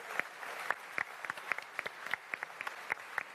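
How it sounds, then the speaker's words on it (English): An audience at an Elite Dangerous panel during Frontier Expo 2017 gives light, scattered applause, with individual claps clearly distinct in an uneven rhythm rather than a dense roar. "So please, round of applause,"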